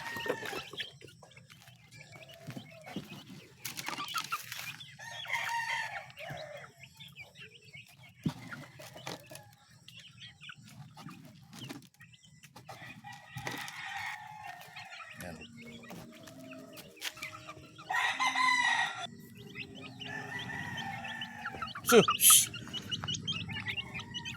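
Chickens cluck and chicks peep around a chick cage in a Filipino backyard setting, with scattered close calls and rustling, and a person talking quietly at times.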